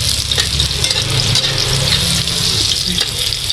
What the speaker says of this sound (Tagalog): Lagay natin itong bawang. Papulain natin ng bahagya.